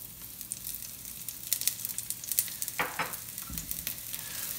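Shaved garlic sizzling in olive oil in a cast iron Dutch oven over medium heat, a soft, steady crackling hiss with a couple of brief stirring scrapes, faint and close.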